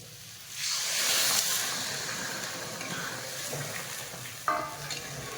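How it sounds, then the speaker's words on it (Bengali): Water poured into a pan of spiced fried potatoes for aloo dum bursts into a loud, close hissing sizzle, then eases into a steady frying bubble, with a short utensil clink near the end. "এবার জল দিয়ে দেবো"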